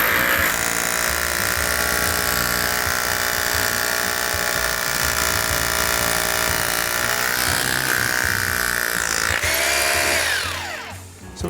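A power screw gun whines steadily and loudly for about ten seconds, driving a screw into a concrete basement floor, then winds down and stops near the end.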